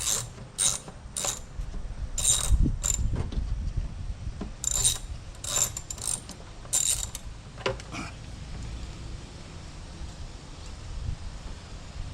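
A hand ratchet loosens a fastener on a car during a mass air flow sensor and throttle body cleaning job, with bursts of rapid clicking up close followed by quieter handling sounds and no speech.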